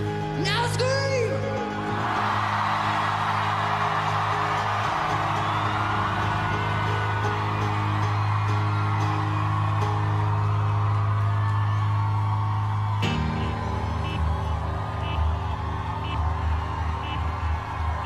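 A concert crowd at a live acoustic show screams and whoops loudly and continuously for several seconds, with a steady low hum underneath, then the roar drops suddenly partway through.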